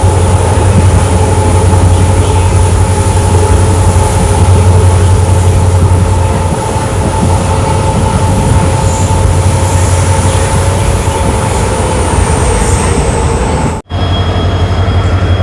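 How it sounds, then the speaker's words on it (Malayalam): Diesel locomotive train accelerating away from Bantwal railway station on the Mangaluru to Subramanya Road line, a loud, close, steady rumble and engine hum with wheel noise throughout, cutting off briefly near the end. "ട്രെയിനിപ്പോൾ ബന്ദവാല റെയിൽവേ സ്റ്റേഷനിൽ ഡിപ്പാർട്ട് ചെയ്ത്."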